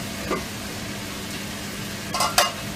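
Tomatoes cooking in a pan for sarson da saag, a close, continuous sizzle broken by a few short scraping stirs near the end, with no talk.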